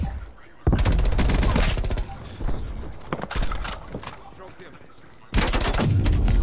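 Rapid bursts of gunfire from a video game shooter, loud and close, with dense automatic fire in several long stretches broken by brief pauses, under a player talking.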